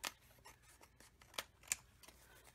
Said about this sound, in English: now, of course I have to trim.